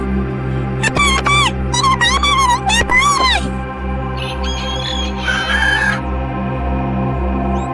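A rooster crows loudly and close by in two or three rising, wavering calls, followed by shorter squeaky clucks from the fowl, with a low steady background hum.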